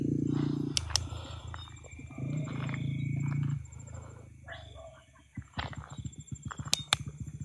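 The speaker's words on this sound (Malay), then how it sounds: "Musang kot." A wild civet (musang) calls out in the forest of Balik Pulau with loud, rough, growling bursts followed by a rapid series of sharp clicks and chatters, close to the listener, with a person speaking briefly.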